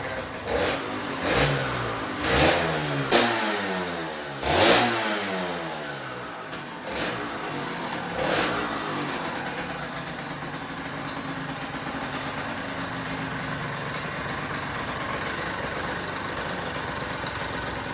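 A Yamaha DT125R two-stroke motorcycle engine revs sharply in several quick blips, then settles into a steady buzzing idle that carries on alone.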